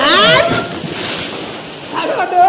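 A big splash as someone plunges into a rustic outdoor swimming pool in Gir, Gujarat, in hot summer, followed by sloshing, with excited voices shouting over it.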